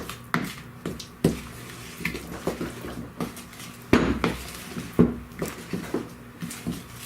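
A spoon clinks and scrapes against a bowl while pineapple is mixed into a bar mixture, giving a steady run of light knocks and clatters with a few louder taps, close and without talk.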